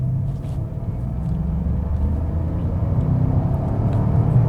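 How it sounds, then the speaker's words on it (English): A 2010 Porsche Panamera 4S V8 pulls hard with the throttle floored in third gear, a loud steady low rumble from inside the car that builds gradually, with no talking. "Yep, floored it, kept it in third gear"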